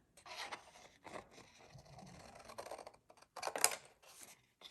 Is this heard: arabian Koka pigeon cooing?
no